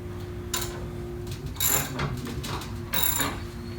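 A jack raises a Harley touring motorcycle, giving close, crisp ratcheting clicks in several short bursts, with quieter mechanical ticking between them.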